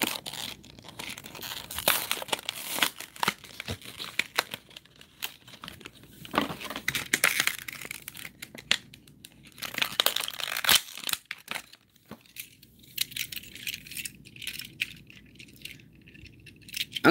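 Packaging of a collectible DB43 final lock card being torn open, with continuous crinkling, crumpling and tearing of plastic and cardboard close to the listener, in busy irregular bursts that thin out toward the end.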